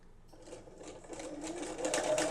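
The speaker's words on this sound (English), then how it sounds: "I have a variegated pink and purple thread in my machine and just a regular standard foot. And I'm going to start out just doing straight stitches" A home sewing machine with a regular standard foot runs straight stitches through a textile piece, a rapid mechanical whir that starts softly and builds steadily louder over two seconds, close up and alone.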